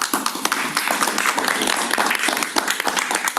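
Board meeting attendees applauding Mr. Bush, a room of steady, dense hand clapping at close to moderate distance that lasts the whole stretch with no talk over it.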